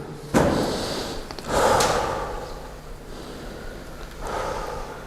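Several slow, deep breaths during a calm seated breathing exercise, each a broad airy inhale or exhale, fairly close and quiet, spaced apart with near-silence between them.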